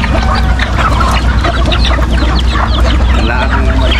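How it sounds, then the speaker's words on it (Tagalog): A flock of chickens clucks busily while being fed, many birds overlapping in dense, constant chatter with a rooster mixed in, close and loud against a low background hum. "papakainin natin yung mga manok."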